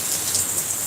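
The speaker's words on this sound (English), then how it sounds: "it's raining big time" Heavy rain pours down in a dense, steady hiss of drops drumming on surfaces, close and continuous for a brief moment with no voices.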